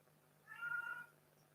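A cat lets out a single drawn-out meow, clear and moderately close, over a faint steady hum.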